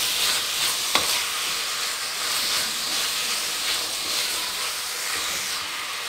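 Meat for a Fez-style Eid kebab sizzles loudly and evenly in a pan, a dense hissing fry with a single sharp utensil knock early on and faint stirring underneath, with no speech.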